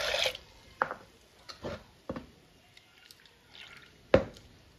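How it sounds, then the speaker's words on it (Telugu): Water is poured into a bowl of freshly washed lentils, giving a handful of short, separate splashes and drips close by, with quiet gaps between them. "ఇప్పుడు వాటర్ పోసేసుకుందాం దీంట్లో."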